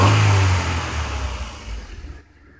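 A 1997 Honda Civic engine revs loudly up close, a strong low roar that eases into a wavering lower hum and then cuts off near the end, heard alone.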